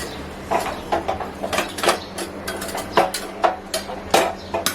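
A spoon stirs lapshi, cracked wheat seasoned with cardamom powder, in a metal pot, giving irregular clinks and scrapes against the metal in quick uneven strokes, close by and alone.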